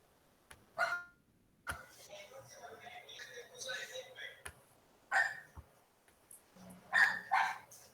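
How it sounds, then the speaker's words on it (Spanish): A dog barks several times in short separate bursts, fairly faint and off at a distance, heard during a quiet indoor meeting with light background noise. "Allá se escucha un perro ladrando."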